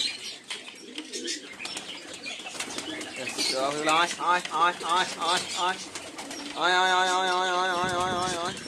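Giribaz and Madrasi pigeons coo in repeated throaty bursts at evening feeding in a loft, close and steady, with a soft murmur of voices and rustling behind them.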